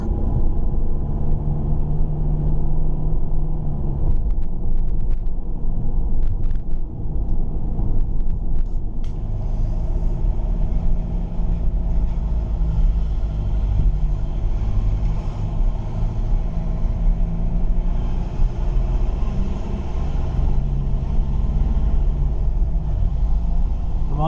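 A car with an automatic gearbox drives along on a European road trip, heard from inside as a steady, loud low rumble of engine and road noise with no talk.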